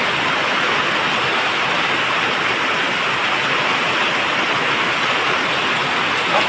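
Steady heavy rain falling outside a shop, a dense, even hiss of downpour that stays loud and constant throughout with no voices.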